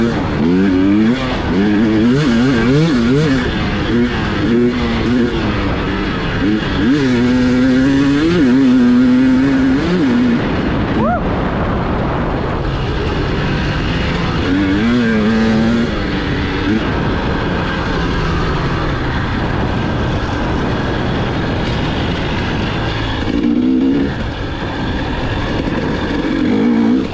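KTM 300 XCW TPI two-stroke dirt bikes ride through sand with a 110 alongside, engines rising and falling in pitch as riders rev and shift, loud and continuous throughout.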